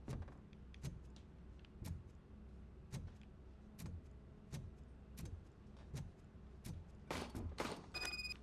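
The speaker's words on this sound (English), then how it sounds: "Why in the heck did I just hear gunshots?" Sharp, sudden gunshot-like bangs crack out one at a time at irregular intervals over a steady low rumble, with a faster burst near the end, in the video game RoboCop: Rogue City.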